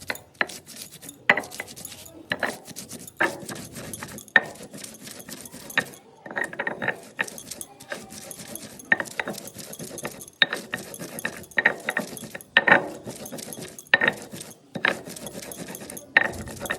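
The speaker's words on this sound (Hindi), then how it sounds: "इसी के साथ मैं यहाँ पर थोड़ा सा साबुत धनिया भी डाल दूँगी, जो मैं पहले डालना भूल गई थी। तो अब हम धनिया डाल के भी सारी चीज़ों को अच्छे से पीस के तैयार कर लेंगे।" A mixer grinder pulses green chillies, garlic, coriander leaves and whole coriander seeds for kadhi pakoda, giving rattling, clattering grinding bursts in short irregular runs with brief pauses, close and moderately loud, with no talking.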